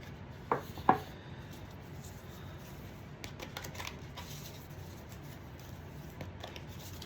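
Cards drawn from an oracle deck, heard as two quick snapping flicks near the start and then a soft, faint rustle and shuffle of cards in a quiet room.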